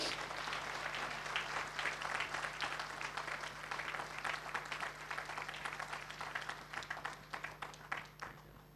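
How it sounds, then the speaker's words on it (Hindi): A crowd claps steadily and continuously, a dense wash of applause that fades slightly toward the end, heard from some distance. "सर प्लीज कम, तालियां बजाइए।"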